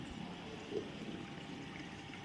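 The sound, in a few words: water draining away after washing clothes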